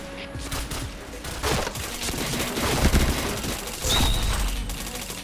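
Gunfire in the online shooter Point Blank, rapid bursts of automatic fire and scattered shots over a continuous noisy game soundscape, fairly loud and sustained.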